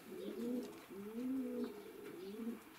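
Pigeons coo inside a village dovecote where about 26 birds are kept for winter, giving repeated low, throaty coos in close, steady phrases with short pauses between.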